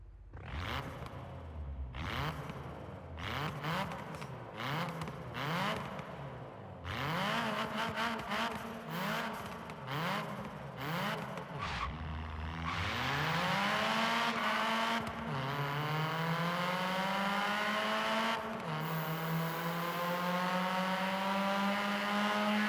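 A six-cylinder car engine in the video game Forza Horizon 3 revs up and down repeatedly in quick bursts, then settles into a long, loud, rising drone at sustained high revs.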